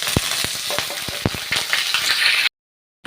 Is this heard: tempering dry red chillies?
yes